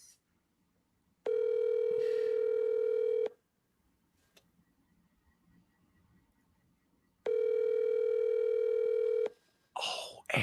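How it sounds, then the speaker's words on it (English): A telephone ringback tone plays through a line: two long steady electronic tones about six seconds apart, separated by near silence, loud and clear with no talking. "Phone's ringing, Lou."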